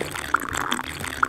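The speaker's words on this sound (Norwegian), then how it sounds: "Jeg bare helte masse vann på pulten min." Water spilling onto a desk makes soft splashing and trickling sounds, with a couple of faint drip-like plinks, close and fairly quiet.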